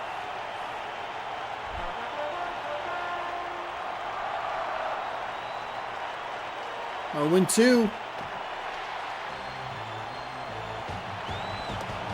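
Stadium crowd ambience from the baseball video game MLB 11: The Show, a steady wash of cheering and applause running under a commentator's voice.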